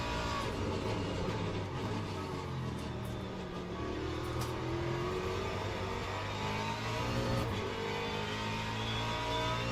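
Corvette race car in Le Mans Ultimate running an LMGT3 and LMP2 multiclass race at Sebring, its engine a steady droning roar held at speed for the whole stretch, with no voices.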